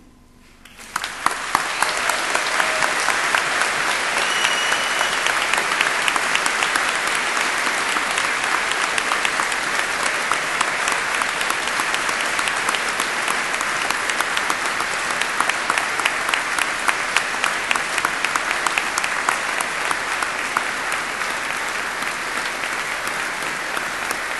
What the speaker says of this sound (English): say a very special and public thank you to them all with an enthusiastic round of warm applause